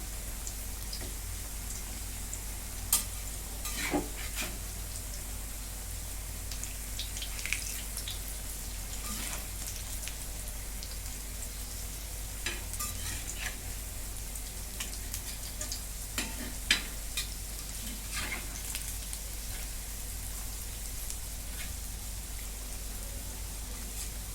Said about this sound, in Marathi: आता ही पण बाजू खरपूस अशीच भाजून घेते